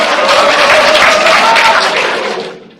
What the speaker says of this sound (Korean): 이 평론가들 네 분에게 뜨거운 박수 한번 다시 부탁드리겠습니다